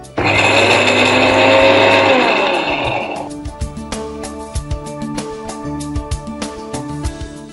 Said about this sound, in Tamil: இதெல்லாம் நம்ம மிக்ஸி ஜாரில் ஆட் பண்ணி